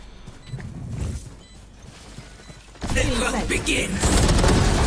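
Rapid bursts of gunfire from a tactical shooter video game, loud and dense in the second half after a quieter stretch of game noise, with a player talking over the action.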